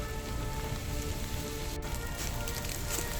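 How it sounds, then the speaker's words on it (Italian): Heavy rain pours steadily onto a mountain trail near Malga Terrazzo, a dense, continuous hiss of drops drumming on the ground and surroundings, close and unbroken with no voices. "sta piovendo a dirotto"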